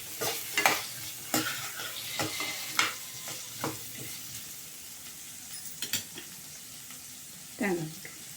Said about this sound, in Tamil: எல்லாத்தையும் ஒன்றா போட்டு வணக்கி எடுத்து ஆற வச்சு